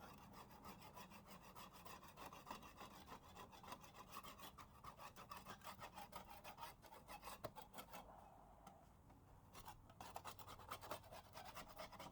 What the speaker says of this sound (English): I'm just gonna start scraping